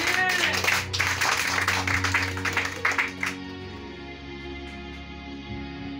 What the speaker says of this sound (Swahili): Mpige Yesu makofi mazuri.